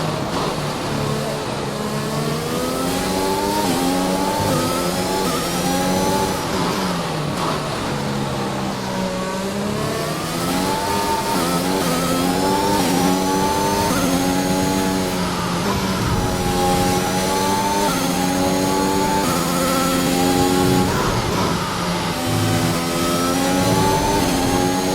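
A racing car engine revs hard through an overtake, a loud, continuous high-pitched whine whose pitch sweeps up and down with gear changes, heard close and alone.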